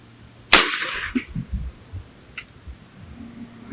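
A single sharp report from a Pedersoli 1861 Springfield black-powder rifle, loud and close with a rumbling tail, followed by a fainter distant crack a couple of seconds later amid outdoor low-level noise.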